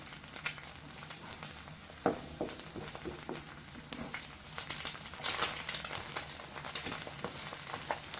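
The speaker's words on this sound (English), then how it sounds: "I like my egg flipped over once it gets good and brown or done on one side." An egg fries in a pan, browning on one side, with a close, steady sizzle and crackle and occasional small pops and scrapes, heard without talk.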